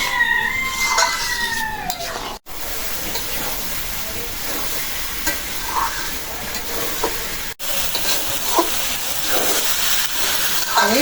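Rice for hilsa pulao is stirred and fried in a pot, with scraping spoon strokes against metal over a steady sizzling hiss, close up, with a couple of brief breaks.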